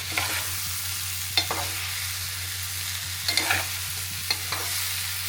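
Okra and prawn curry with tamarind being stir-fried in a pan, a steady close sizzle broken by several sharp spatula scrapes and knocks against the metal, with a low hum underneath.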